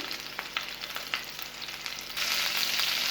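Chicken malai seekh kebabs fry in a pan with a close, steady sizzle and small sharp pops, swelling to a louder, denser hiss for the final second, with no one speaking.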